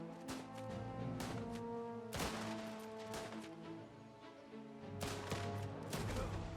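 Gunfire in the war strategy game Last Train Home: sharp shots and bursts crack out over a tonal background score, with dense clusters of fire near the start, middle and end.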